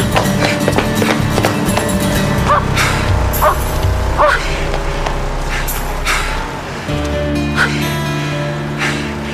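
A dog barking repeatedly in a chase scene, loud sharp yaps in an irregular rhythm over busy background noise, with a voice briefly audible.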